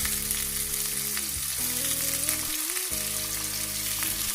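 Chicken and mixed-vegetable low-calorie kababs fry steadily in a pan, giving a continuous close sizzle and crackle with no voices, while a faint tonal background hum shifts pitch throughout.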